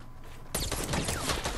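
A sudden burst of rapid gunfire from the video game Fortnite breaks in loud and dense after a quieter stretch, continuing as a sustained volley.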